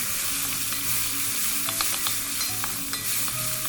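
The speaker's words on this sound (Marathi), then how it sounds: "आता आपल्याला यामध्ये बारीक चिरलेला कांदा टाकायचा आहे. कांदा व्यवस्थित परतून घ्यायचा आहे." Finely chopped onion sizzles and fries in a hot pan for a cashew (kaju) bhaji, a steady close sizzle with occasional stirring scrapes and clinks throughout.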